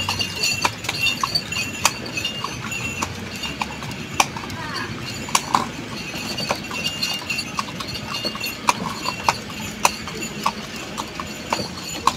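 Horse hooves clip-clop steadily on a street in the hill town of Berastagi, North Sumatra, a close run of sharp, regular clacks through the whole stretch, with people talking nearby.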